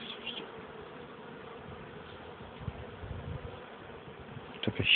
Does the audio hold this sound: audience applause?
no